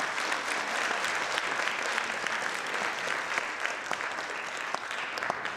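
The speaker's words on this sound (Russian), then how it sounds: "Еще раз ваши аплодисменты," Concert audience at a classical music performance applauds warmly, a full, even roll of many hands clapping that holds steady throughout with individual claps poking out.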